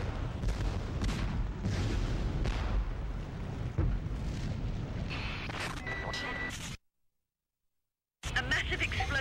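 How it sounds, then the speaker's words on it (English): A massive explosion in the 1997 PC game Nuclear Strike, set in Pyongyang: a loud, sustained rumbling blast with repeated booms and crackling debris, cutting to silence for about a second before the roar returns. "A massive explosion rocked central Pyongyang just minutes ago."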